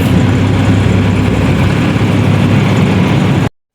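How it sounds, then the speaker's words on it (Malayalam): A large, heavily loaded vehicle's engine roars past at close range on an Indian highway, a loud, continuous low rumble filling the scene until it cuts off abruptly near the end. "എന്തോ വലിയതോ വണ്ടി പോകുന്നു, അതൊരു വലിയ ലോഡ്"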